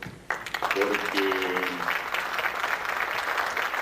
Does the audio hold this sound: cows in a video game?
no